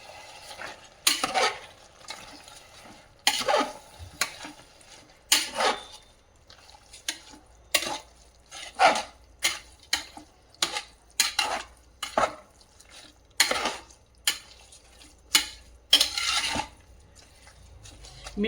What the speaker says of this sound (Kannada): ಈಗ ಎಲ್ಲವನ್ನು ಮಿಶ್ರಣ ಮಾಡಬೇಕು